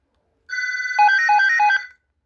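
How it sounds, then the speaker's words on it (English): A GE 28214KE2-A telephone rings, its bell first a steady buzzing tone, then three quick ringing bursts in a row, close and loud, with no voices over it. "of course it's ringing."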